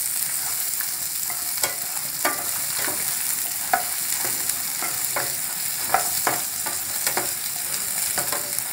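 Chopped ivy gourd fries in a pan with a steady sizzle, while a spoon scrapes and stirs it in repeated sharp clicks, close and with no voices.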